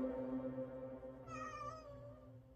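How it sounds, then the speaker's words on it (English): A house cat meows once, a short, fairly clear call partway through, set against a steady low household hum with no talking. "My cat wants to get out now."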